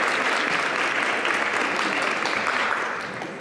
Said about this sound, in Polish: Ogromne brawo.